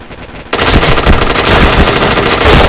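Rapid automatic gunfire from a video game bursts in loud and close, a dense continuous rattle of shots that carries on without pause.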